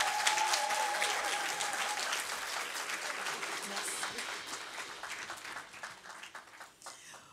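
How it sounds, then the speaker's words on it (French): An audience at a church baptism session applauds in sustained, fairly loud clapping that gradually thins and fades toward the end, with scattered individual claps standing out. "Applaudissez-les encore,"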